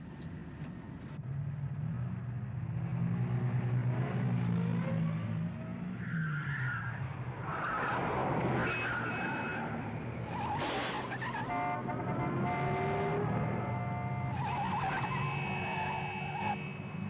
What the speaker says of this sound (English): He's just leaving the control tower in a motor car.